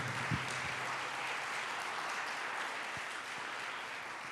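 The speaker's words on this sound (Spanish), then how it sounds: "Si le va a aplaudir, apláudale fuerte al Rey." A church congregation applauds loudly and steadily for the whole stretch, a dense, even wash of clapping with a few sharper claps standing out near the start.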